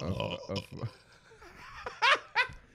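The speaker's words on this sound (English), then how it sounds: "How many burps is that?" Short belches within casual conversation, with people talking and laughing around them; a couple of brief, throaty bursts near the end stand out loudly against the chatter.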